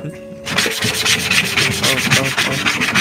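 A computer mouse scrapes back and forth on a hard mouse pad with built-up grime, loud and close to the microphone, a rough rhythmic rubbing that sounds like sanding and starts after a brief quiet moment.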